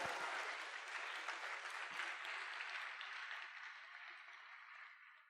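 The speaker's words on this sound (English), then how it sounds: "Let's give a round of applause." An audience at an anniversary concert applauds, a broad wash of many hands clapping that holds steady and then slowly tapers off over several seconds, heard alone without speech.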